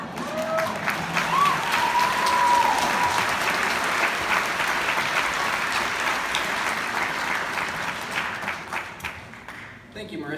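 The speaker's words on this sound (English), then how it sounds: "Let's give Marissa another round of applause." A university chemistry and biochemistry graduation crowd applauds a student speaker with loud, sustained clapping that swells early and then slowly tapers, with faint voices mixed in and a brief cheer near the start.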